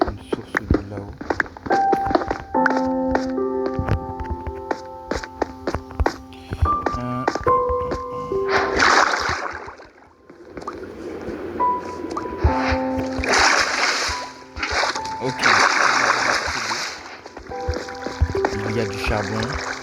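Water splashing while a bucket is filled in Minecraft, with short splashy bursts mixed among game sound effects and musical tones, partly under talk.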